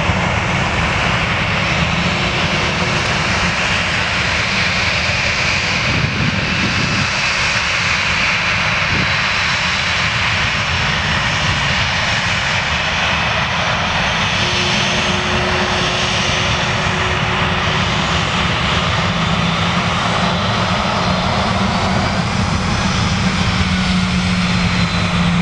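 A Jet2 airliner takes off at Manchester Airport, its engines producing a loud, continuous roar that holds steady for the whole stretch without voices.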